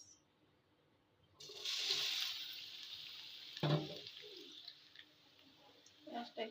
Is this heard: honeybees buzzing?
no